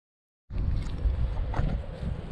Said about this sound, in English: The wind came up on us out of nowhere